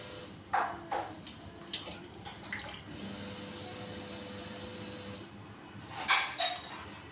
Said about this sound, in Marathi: आता हे दाबून आपल्याला पाणी नितळवून घ्यायचं आहे